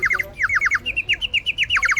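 A handmade water bird whistle toy, half filled with water and blown, at Düden Waterfall in Antalya, warbles in quick repeated bird-like trills. The chirps come in bursts that are close and loud, with no talk.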